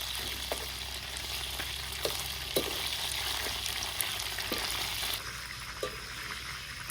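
Insects frying in hot oil make a steady, close sizzle throughout, with scattered sharp pops and crackles. A soft change in the texture comes partway through, and no one speaks.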